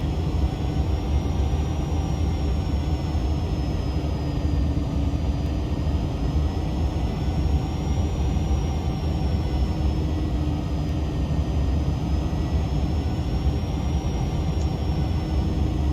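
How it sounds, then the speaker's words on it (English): A Cirrus Vision Jet G2 cruises in flight, its jet engine making a constant broadband roar and rumble inside the cabin, with a thin steady whine riding above it and no voices. "Just incrementally slow down the aircraft."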